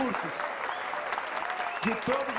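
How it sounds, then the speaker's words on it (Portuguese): Dense, continuous clapping from a crowd at a formal ceremonial session fills the room, with a few voices faintly audible beneath the applause. "uma salva de palmas aos estudantes da Unip"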